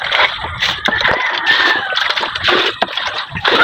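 Chickens on a rural holiday property in Aklan, with loud nearby crowing and clucking mixed with splashing water and other fowl noises.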